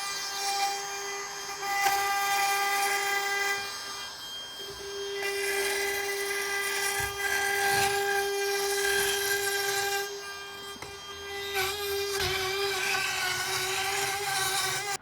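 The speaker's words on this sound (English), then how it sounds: "it's real easy to trim the tongue. We use this router" A router trims the tongue edge of a plywood subfloor sheet with a high steady motor whine, the pitch dropping and rising as it bites into the wood, loud and close with no talking.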